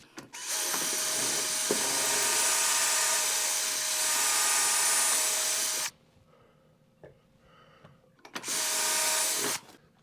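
A power drill drives a screw into a railing bracket, whining steadily for about five seconds, pausing, then giving a shorter burst; close and fairly loud, with no talk.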